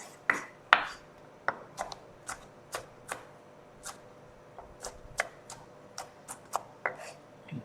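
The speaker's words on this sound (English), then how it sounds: "I have the Asian friends, the onions, the garlic, and the ginger. So I cut them fine like this." A knife chops onions, garlic and ginger finely on a board, sounding as a run of sharp, separate taps at an uneven, steady pace, close and clear with no voices.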